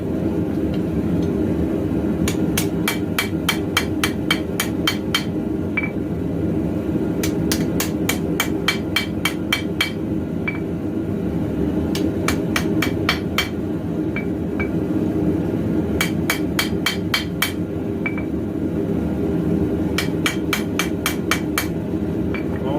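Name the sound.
hammer forging and planishing a knife tang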